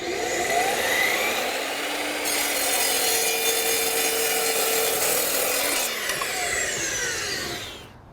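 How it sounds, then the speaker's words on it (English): A saw cuts steadily through hardwood with a continuous rasping, whirring grind that holds for several seconds before tapering off. It is heard close with no talking. "Can it still do a nice clean cut on hardwood after I just kicked its butt with squared steel tubing?"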